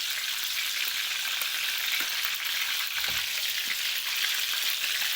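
Food fries in hot oil with a dense, steady sizzle and crackle throughout, close and fairly loud, with faint stirring knocks from the pan.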